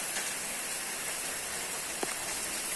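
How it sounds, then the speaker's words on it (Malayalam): Steady rain falling around a farmhouse on a two-acre areca, pepper and rubber plantation, heard as a soft, continuous hiss with no voices. "മഴ പെയ്തുകൊണ്ടിരിക്കുകയാണ്"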